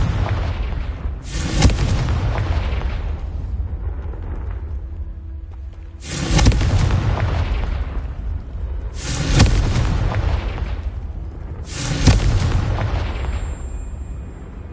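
Confringo spell blasts from the Hogwarts Legacy game burst out as a series of four loud booming explosions spaced a few seconds apart, each with a sharp crack and a rumbling decay beneath a continuous low background.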